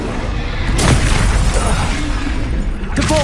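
Spell explosions boom out in the video game Hogwarts Legacy, a loud blast with a crackling, shattering tail and a second burst near the end, over busy combat noise.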